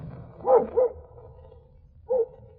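A dog in a radio drama gives two quick barks close together, then after a pause one more bark, clear and fairly near over a faint low hum.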